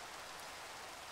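Soft, constant rainfall patters in the video game Minecraft, a quiet, even hiss throughout.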